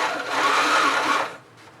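A sewing machine runs a short burst of stitching along a backpack fabric seam, a steady close whirring hum lasting about a second before stopping.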